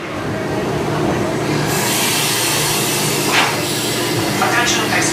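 A roller coaster train at Animal Kingdom rumbles and rattles loudly along its track, with a few brief squeals rising over the steady mechanical roar.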